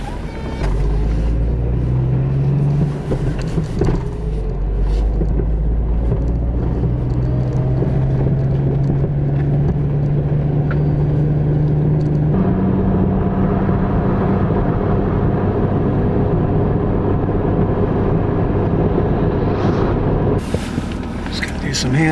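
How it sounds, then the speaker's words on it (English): A car drives along a snowy road in Southern Oregon's Rogue Valley, a loud steady engine and road rumble heard from inside, with a shift in tone midway and talk over it. "Love driving in the snow."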